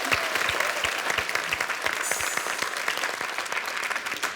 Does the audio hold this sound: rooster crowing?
no